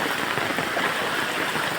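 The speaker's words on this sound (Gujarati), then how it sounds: "વરસાદ પણ હજી કન્ટિન્યુ એમ શરૂ જ છે" Heavy monsoon rain pours steadily in a village during a long downpour, a dense, even hiss that holds constant and close throughout with no voices.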